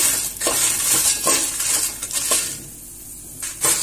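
Grated coconut for Kerala-style chammanthi podi is roasted over a low flame in a pan, with rhythmic scraping and stirring strokes against the metal over a faint sizzle, close and moderately loud.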